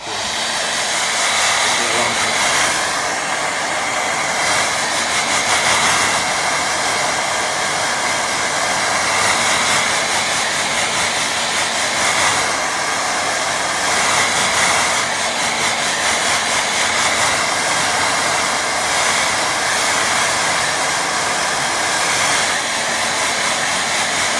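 A hair dryer blows continuously over a watercolour painting layer, a loud, steady close roar with no pause throughout.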